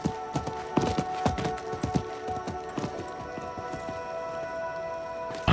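Horse hooves clip-clop at a steady trot as a merchant's horse moves through a Diablo 4 game scene, sharp repeated hoofbeats fairly close over a tonal game score, no speech.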